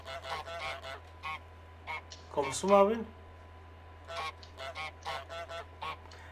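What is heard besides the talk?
goose honking in the video game Untitled Goose Game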